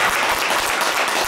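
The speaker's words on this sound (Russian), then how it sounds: "Но мы их знаем и слышим по аплодисментам." Applause from a concert audience at a restaurant show, a steady dense wash of many hands clapping throughout, fairly loud and continuous with no talk over it.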